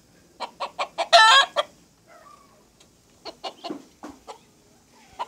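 Laying hens clucking close by in short separate bursts, one louder squawking run near the start, then a quieter patch of scattered clucks, with no one speaking.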